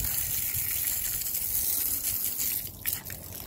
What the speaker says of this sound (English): I'm going to get the water. I'm going to spray it.